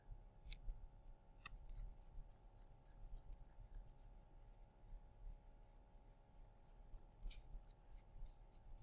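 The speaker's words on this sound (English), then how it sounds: "this eraser is slow" An eraser rubs across a classroom board in a lecture room, producing faint, intermittent scraping and squeaking strokes over a low background hum, with a couple of sharp ticks near the start.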